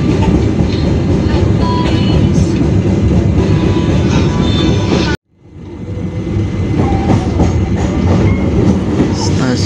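KA Dharmawangsa passenger train running on rails, heard from on board as a loud, steady roar of wheels and carriage rumble, broken by a brief sharp drop near the middle before the din resumes.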